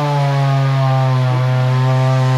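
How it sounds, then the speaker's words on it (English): Power saw cutting through thick cement, a loud sustained droning whine with a steady low pitch and strong harmonics, holding constant for the whole stretch with no voices. "we resorted to trying to saw this cement"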